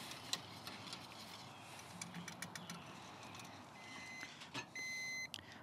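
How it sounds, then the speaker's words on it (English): A meat thermometer alarm beeps in a short run of sharp tones near the end, signalling a smoked brisket is done, over low background noise and faint clicks. "So it's basically beeping me, telling me that my brisket is done."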